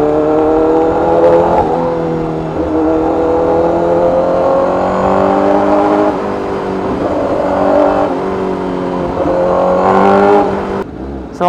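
A remapped Honda CBR1000RR-R Fireblade SP motorcycle engine runs loud and close, its tone rising and falling through several revs, with a brief sharp burst near the end.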